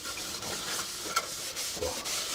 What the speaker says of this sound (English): I'm just going to give it a quick wipe down with the mineral spirits